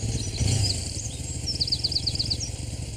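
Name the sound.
motorbike riding by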